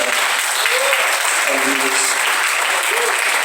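Church congregation's strong round of applause for the Lord at an evening service, a dense continuous clapping wash at steady loudness with voices faintly mixed in.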